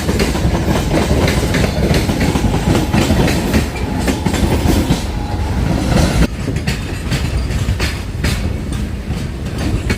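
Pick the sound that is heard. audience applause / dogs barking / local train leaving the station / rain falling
local train leaving the station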